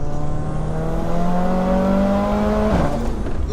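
A Mercedes A45 AMG with a big turbo and screamer pipe accelerates hard in third gear, its engine note climbing steadily and loudly before a quick drop at a shift near the end, heard from inside the car.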